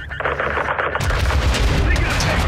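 Dense, sustained gunfire from Call of Duty MW2 (2022), realism campaign on PS5, with heavy overlapping shots and booms throughout that thicken after the first second, loud and close.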